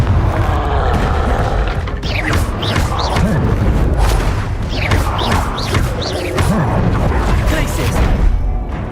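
Repeated explosive spell blasts from Confringo being cast in Hogwarts Legacy, loud booming bursts recurring every second or so amid a dense, busy game soundscape with whooshing spell effects.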